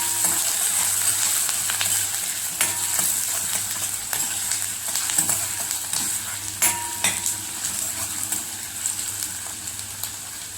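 Chopped onion frying in a pan, the base for eggs cooked in kharda chili paste, gives a steady close sizzle with scattered clicks of stirring throughout.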